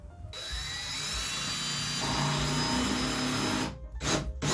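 A cordless power drill whirs steadily as it drives a screw with a low torque clutch setting, the motor running loud and continuous before stopping and ending in a few short ratcheting clutch bursts.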